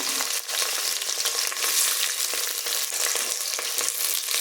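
Bay leaf, fennel seeds and onion fry in hot oil in a pan with cloves, a loud, steady, dense sizzle with faint scrapes running throughout.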